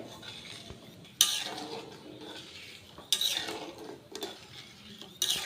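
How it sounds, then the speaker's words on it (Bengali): A utensil scrapes and clinks against a metal pot while stirring sugar syrup for Puri-style khaja, coming in loud repeated strokes with short pauses between, close and clear. "এবার চিনির শিরাটাকে আমি একটু নাড়াচাড়া করব।"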